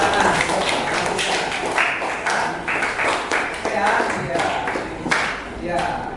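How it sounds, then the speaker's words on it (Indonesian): Classroom applause from a group of students, a dense run of overlapping claps at steady volume throughout, with some voices mixed in. "Beri tepuk tangan."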